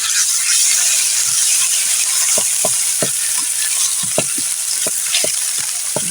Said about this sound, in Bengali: জাল দিয়ে নাড়াচাড়া করতে হবে।